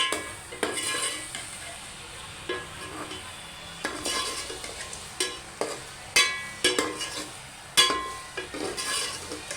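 Chicken and onion gravy is stirred in a pan over low heat for a chicken curry: a soft sizzle runs throughout, and a spoon scrapes and clinks against the pan at irregular intervals, close up, with no talk.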